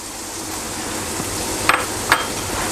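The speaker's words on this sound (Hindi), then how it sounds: "और इस मसाले को मैं 2 से 3 मिनट तक भून लूँगा अच्छी तरीके से" Karahi masala frying with ginger garlic paste in a karahi for keema, a steady low sizzle throughout with a couple of brief utensil scrapes or taps near the end.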